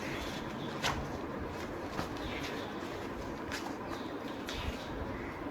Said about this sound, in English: Then bird calls.